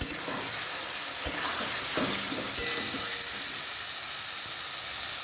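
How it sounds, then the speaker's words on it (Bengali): Boiled soybeans being stirred into fried spice paste in a frying pan for a soy and egg biryani, with a steady close sizzle and hiss throughout and a couple of sharp utensil taps. "সয়াবিনটা আগে থেকে সেদ্ধ করে রেখেছি ভালো করে নেড়ে চেড়ে মিশিয়ে নেব"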